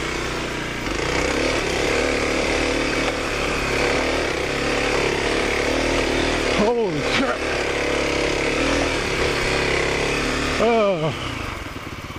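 A 2025 Kawasaki KLX 300 dirt bike on small hill climbs, its engine droning steadily up close with two sharp throttle blips that rise and fall in pitch, with voices heard over it.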